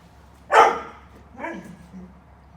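A dog barks twice, a sharp loud bark followed a second later by a softer, shorter yip, close by against a quiet background.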